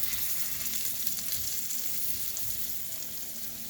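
Scallop-cut potatoes sizzle steadily in a frying pan just after being turned, a continuous close, even crackle of hot fat with no pauses or voices.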